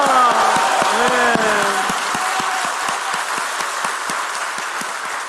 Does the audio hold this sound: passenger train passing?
no